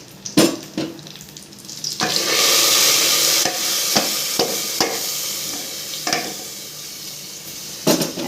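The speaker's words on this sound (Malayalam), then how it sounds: "താളിപ്പ് അതിലേക്ക് ഒഴിക്കാം." Hot tempering poured into a dish of morkalam (spiced buttermilk curry) gives a loud, sustained sizzling hiss lasting over a second, followed by stirring and soft utensil clinks. No one speaks.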